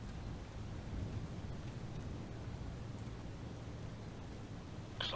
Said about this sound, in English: Doesn't help that it's pouring rain.